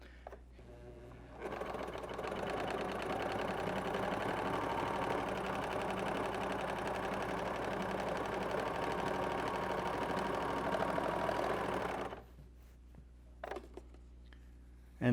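A sewing machine with differential feed stitches steadily for about ten seconds, a fast, even mechanical whir and patter close by, starting and stopping abruptly with short quiet gaps on either side.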